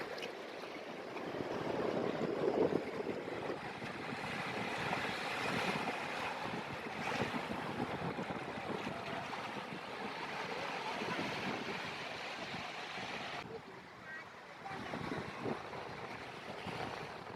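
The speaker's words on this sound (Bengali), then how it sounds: "এখানে অসাধারণ ঢেউ আসছে" Sea waves roll in and break along Digha beach at high tide, a continuous surging wash with wind noise, swelling and receding in loose cycles.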